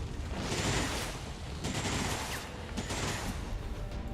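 Gunfire in XCOM 2 as a shotgun is fired at a robot, a dense, loud burst of overlapping shots and impacts running continuously through the clip.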